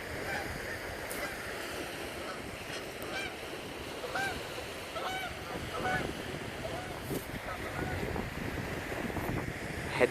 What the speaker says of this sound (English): There's something about hearing the wild geese and the seagulls.